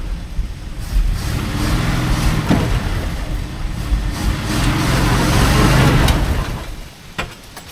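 A 1979 Dodge D300 truck, worn out and abandoned for over twenty years, idles and runs roughly with a steady low engine rumble that swells and revs slightly, close and fairly loud.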